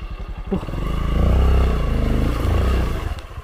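Motorcycle engine idling and revving close by on a forest trail blocked by a fallen tree, a steady rough rumble that swells and fades with some clatter, no talk.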